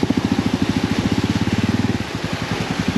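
A small outboard motor on a boat used for crossing the sea chugs steadily and close, its rapid regular engine pulses holding a constant idle-like beat with no voices.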